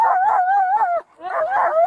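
A police dog barks and howls in a quick run of loud, close yelps and whining calls, pausing briefly before another burst.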